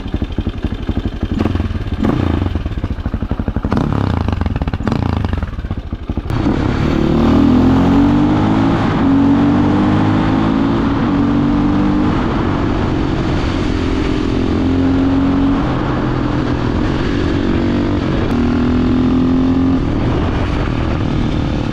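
A motorcycle engine running during a test ride, loud and close throughout, with clattering revs early on, then a sustained drone that climbs through several rising gear pulls.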